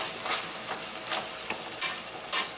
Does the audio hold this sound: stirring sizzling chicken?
yes